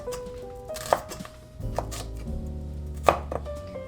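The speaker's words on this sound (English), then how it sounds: "we're just going to mince up this shallot" A knife chops a shallot on a cutting board in a handful of sharp, close knocks, spaced unevenly with short pauses between strokes, no voices.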